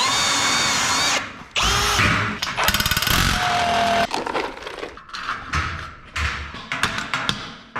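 A power drill bores holes for hammer-in wall plugs while reinforcing brackets are fixed to drywall framing: loud, close bursts of whining drilling broken by short pauses and sharp tapping knocks.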